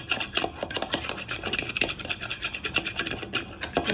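A freshly cracked egg being whisked in a bowl: quick, rhythmic scraping strokes of the whisk against the bowl, fairly soft and close, repeating evenly without any talking.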